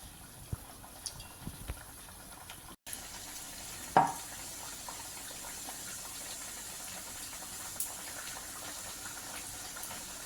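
Shaped maida and onion vadai frying in hot oil, a steady, moderate sizzle that runs for the whole stretch, with a brief dropout and one sharper splash or clink near the middle.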